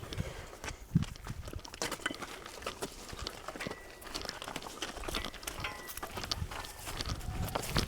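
A pair of bulls in training walks along before a village fair, hooves clopping in an irregular patter of soft thuds mixed with rustling and scuffs, moderately close and continuous.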